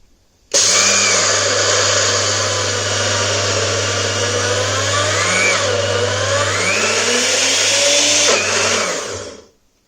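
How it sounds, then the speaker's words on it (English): A kitchen blender with a two-blade attachment pulses peanuts with jaggery and salt, a loud steady motor whir running close and alone for several seconds before winding down. "I am going to pulse the blender for a couple of times"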